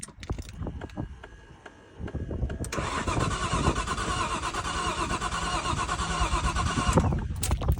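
A Nissan R33 Skyline engine is cranked over during a compression test: a quieter starter whir first, then a louder, steady rhythmic churning of the starter turning the engine for several seconds, close up.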